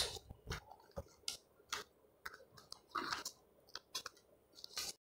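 Scissors snipping through fabric while a flounce is cut out, a string of short, quiet crisp clicks and snips at an uneven pace, close by with no talking.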